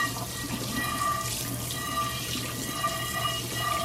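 Tap water running steadily into a sink while a burnt pan is rinsed out, a continuous close splashing hiss with a low hum underneath.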